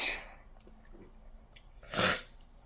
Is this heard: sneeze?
yes